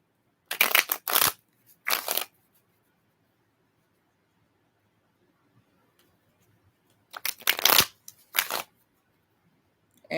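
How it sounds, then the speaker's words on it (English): A deck of tarot cards being shuffled by hand: two quick riffles close together, a long quiet pause, then two more riffles, each a short crisp burst of flicking cards up close. "cards are telling me they're done being shuffled"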